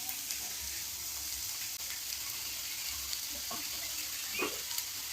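Finely chopped cabbage fries in hot oil for momos with a steady, soft sizzle, a faint continuous hiss with a few light crackles and no voices.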